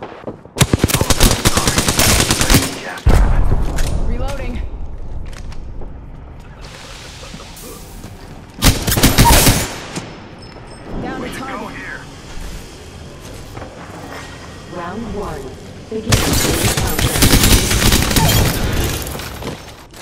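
Gunfire in the Apex Legends video game: heavy bursts of automatic weapon fire come in loud clusters, with quieter stretches of scattered shots, impacts and game effects between them.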